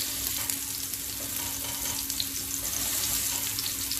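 Turkey kebabs fry on a pan over a low flame, with a constant dense sizzle and crackle close by as a spatula presses them flat; no talking.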